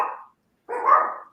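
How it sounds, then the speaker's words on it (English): Two short, loud barks from a dog close by, separated by a brief pause. "So, what the hell are they barking at?"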